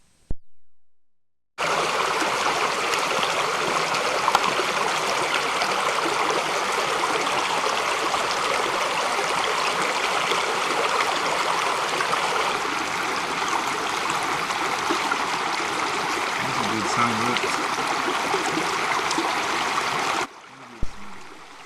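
McGraw Creek in Hells Canyon flows continuously nearby, a steady rushing and babbling of water with no voices, running for about twenty seconds before cutting off.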